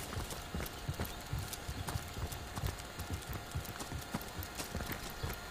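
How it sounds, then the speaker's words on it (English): Game footsteps of characters walking in Divinity: Original Sin, a steady rhythmic clopping tread close up and fairly quiet, continuous throughout with no talk. "The sound of our footsteps reminds me of being in the army."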